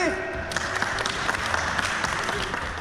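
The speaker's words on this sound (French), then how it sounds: "Très bien, on peut l'applaudir." Applause breaks out for a child riding a bicycle at a sports event, a brisk patter of clapping that starts suddenly and carries on evenly, moderately near.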